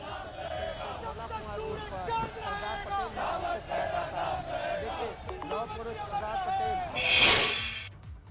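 A large crowd gathered at General Bipin Rawat's funeral in India, with a dense, steady roar of massed voices and shouts throughout and a loud surge of cheering near the end.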